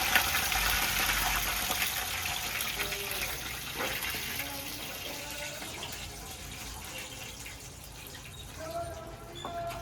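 Water pours into a vessel in a steady, splashing stream that gradually thins and quiets, with scattered drips and light clinks near the end, heard fairly close.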